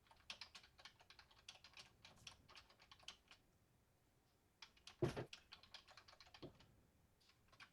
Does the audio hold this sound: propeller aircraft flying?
no